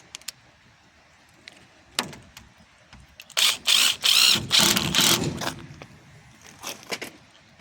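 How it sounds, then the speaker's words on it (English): A power driver runs self-tapping screws into Lexan greenhouse sidewalls, several loud close whirring bursts in quick succession amid scattered clicks and handling knocks. "we're going to take our self-tappers again. We're going to secure our beginning."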